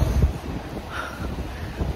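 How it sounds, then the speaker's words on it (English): Gusty, freezing winter wind buffeting the microphone in snowy Matsushima, Japan, rumbling low and uneven in a few bursts, with no one speaking. "It's so windy."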